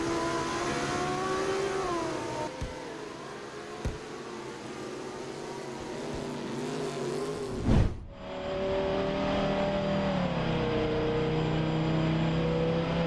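Race car in a GT3 racing video game at the Hungarian Grand Prix circuit, engine droning with shifting pitch as it slides off track, a sharp scrape or bump midway, then the engine revs on steadily.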